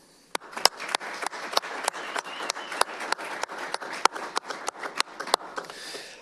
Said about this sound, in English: Let's give them a round of applause now as well.